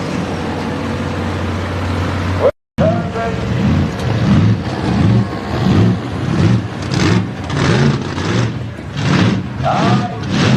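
A six-wheel, six-door truck engine rumbles at the Berryville Spring Nationals 2021 event, with heavy revs that swell in a pulsing rhythm after a brief cut in the sound, under voices talking nearby.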